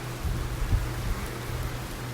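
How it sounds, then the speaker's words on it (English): Steady rain with gusting wind during Hurricane Dorian, a continuous close wash of noise with a low rumble underneath and no voices. "Just getting some rain right now."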